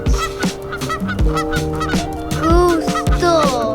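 Geese honk loudly and repeatedly at close range in Ping Tom Park along the river walk in Chinatown, overlapping calls forming a dense, insistent chorus.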